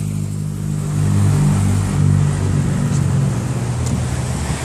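Cars passing on a busy road near Valinhos and Vinhedo, a steady loud engine and tire rumble swelling as vehicles go by, with no talking.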